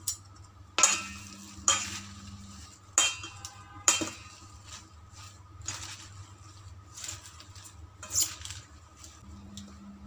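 Greek salad being tossed with dressing: several sharp utensil clinks against a bowl, spaced a second or so apart, over a low steady hum, with softer stirring noise between them.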